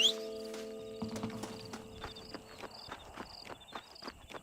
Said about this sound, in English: call in the next horse